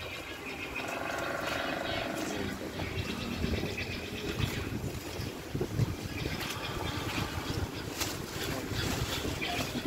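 Wind buffets the microphone at an amusement park in Kharkiv, a continuous rough gusting roar that swells and flutters, with faint speech underneath.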